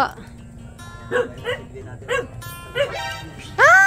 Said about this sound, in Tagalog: Ayun, madaming aso.